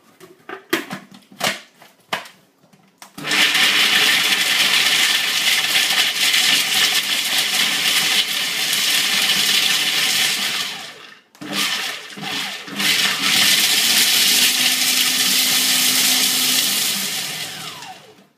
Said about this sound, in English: So these are raw, unsalted cashew nuts. And I'm going to quickly give these a blast